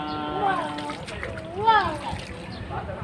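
Water splashes in a swimming pool during a waterproof test of an SJ4000 Air action camera, a steady sloshing layer running under a voice and other talk throughout.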